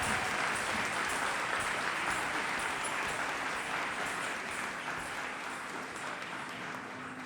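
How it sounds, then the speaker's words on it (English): An audience applauds after a performance at an annual concert, a sustained, dense wash of clapping that fades slightly toward the end, with no talking. "I think another round of applause for all the performers."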